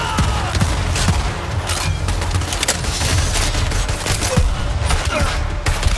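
Dense, continuous gunfire from the shooter video game Borderlands 3, with rapid shots, shotgun blasts and impacts layered over one another for several seconds, loud and busy throughout.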